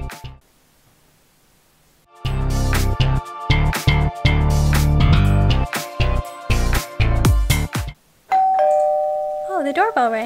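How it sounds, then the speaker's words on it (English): A doorbell rings in the Roblox video game, a loud chime of repeated ding-dong tones lasting several seconds, preceded by a quiet lull and followed by a brief high synthetic warble. "The doorbell rang."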